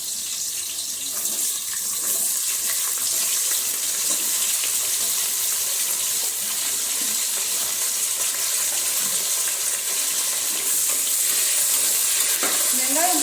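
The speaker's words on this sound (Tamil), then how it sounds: "வெங்காயம் பொன்னிறமா ஆகிற வரைக்கும் நல்லா வதக்கி விடணும்." Onions for chicken biryani sauté in a hot pan, giving a continuous, close hiss and sizzle with occasional stirring scrapes that stay steady throughout.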